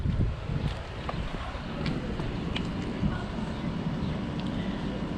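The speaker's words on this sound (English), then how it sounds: "I could hear a lot of air just rushing past here" Compressed air rushes past a cylinder during a leak-down test on a misfiring Toyota Corolla engine, a continuous, breathy hiss that holds steady at moderate loudness.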